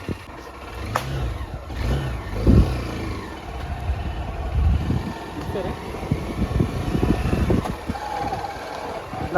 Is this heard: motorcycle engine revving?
yes